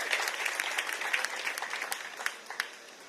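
An audience gives a round of applause, scattered distinct claps at moderate distance that gradually thin out and fade, a few sharp claps standing out near the end.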